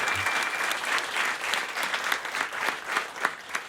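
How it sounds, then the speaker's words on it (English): An audience in a small live-performance studio loft applauds with dense, continuous clapping that stays steady throughout, with faint voices mixed into the crowd noise. "That's all I have to do to get applause, apparently"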